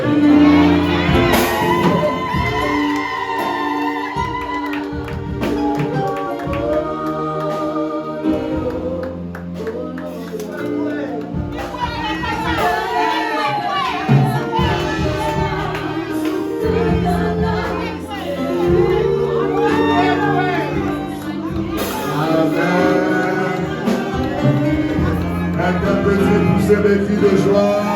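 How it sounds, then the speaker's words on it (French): A wedding crowd in Cyprus shouts and cheers with joy at a pastor's celebration, loud and dense throughout with layered voices, whoops and music-like tones, swelling and dipping in waves over nearly half a minute. "Interprétez tous ces cris de joie."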